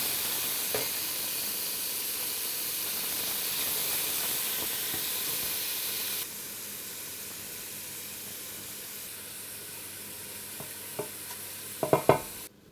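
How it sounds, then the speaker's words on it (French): Fish frying in a hot pan, a steady broad sizzle and hiss that drops to a quieter simmer partway through, followed by a few sharp clinks and scrapes of stirring near the end. "Ça y est, mon poisson commence à dorer."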